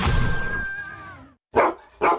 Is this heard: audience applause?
no